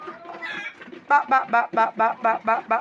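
A hen clucks nearby in a quick rhythmic series of about eight short, throaty calls, preceded by softer murmuring.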